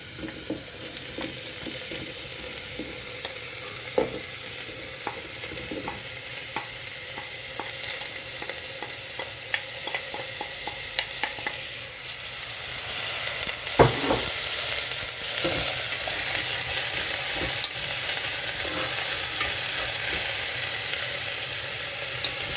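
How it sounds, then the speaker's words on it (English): Onion, celery and carrots frying in a pot for a vegan chickpea risotto soup, a continuous moderate sizzle with scattered stirring taps and spoon knocks, no voices. "We just fry those off for a little bit to get a little bit of caramelisation."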